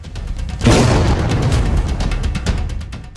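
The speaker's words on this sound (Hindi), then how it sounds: "आसमान और जमीन से कई धमाके किए गए हैं।" Heavy bomb and ground explosions during the Indian Air Force Vayu Shakti military exercise, a loud deep boom bursting in after a brief lull and rolling on with sustained rumble and further distant blasts.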